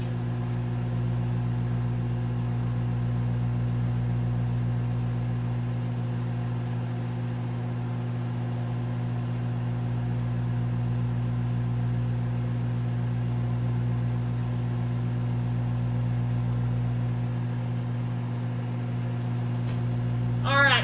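Microwave oven humming steadily while heating a bar of soap, a constant low drone held for about twenty seconds, with a sharp beep right at the end.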